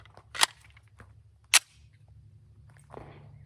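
A CZ P09 Nocturne pistol firing 124-grain CCI Blazer rounds outdoors gives two sharp, separate reports about a second apart, then a softer third crack, with quiet pauses in between.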